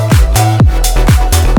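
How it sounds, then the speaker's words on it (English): Rickenbacker bass guitar with boosted highs in a 90s-inspired house drop, loud punchy plucked notes in a steady rhythm, each attack bright and snappy over a deep sustained low end. "we have a really cool bass guitar."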